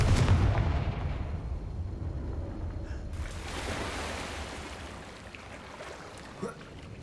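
In the video game Hogwarts Legacy, the Confringo blasting spell goes off as a booming, rumbling blast at the start, then a second whooshing burst around three seconds in that fades into a long, noisy rumble.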